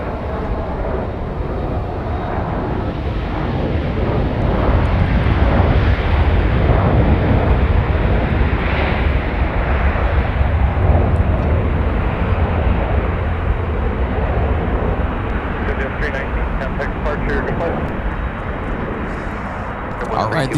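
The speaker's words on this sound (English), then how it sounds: "The big 767 has arrived." Boeing 767 airliner arriving at MSP airport in the Twin Cities, a heavy low rumbling roar that swells in the middle and slowly eases, with a voice talking over it.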